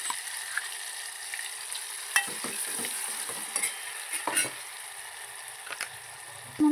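Ground roasted-onion masala paste for Kolhapur-style egg curry sautés in a pan, giving soft, steady sizzling with intermittent scraping and stirring strokes that come up close and fairly loud, with no voices.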